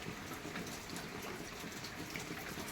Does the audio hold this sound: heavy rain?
yes